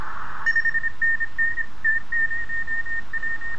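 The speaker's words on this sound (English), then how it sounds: "I'm moving my fingers on and off at the back, and you can hear the tone warbling" An XHDATA SIHUADON D-808 radio receiver emits a thin, steady whistling tone that wavers slightly as a hand touches its casing, heard alone and fairly quietly.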